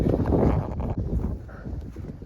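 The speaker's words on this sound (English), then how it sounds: "It's just very foggy and quite windy." Strong wind buffets the microphone in loud, uneven gusts of about 25 mph on a foggy moor at Dartmoor, with a steady rushing roar and no voices.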